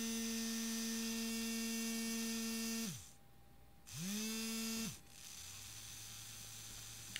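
Two DC motors run by an Arduino L298P motor shield give a steady electric whine that winds down to a stop, falls quiet, then spins up again before cutting out to a lower, steady hum.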